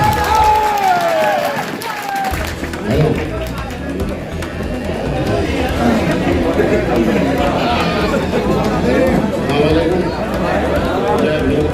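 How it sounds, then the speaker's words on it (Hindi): A large crowd at a political gathering in Nanauta claps and cheers loudly to welcome a speaker, a dense, sustained roar of applause and chatter, with an announcer's amplified voice over it at first. "जोरदार तालियों के साथ आए नाले डॉक्टर।"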